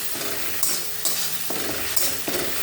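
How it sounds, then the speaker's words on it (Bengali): Softened tomatoes are stirred and sautéed in a pan before vegetables go in: a steady close sizzle with a spatula scraping and clacking against the pan in several irregular strokes, no voices. "চাপাটা খুলে এবার টমেটোটা একটু নেড়ে নিচ্ছি, কষিয়ে নিচ্ছি"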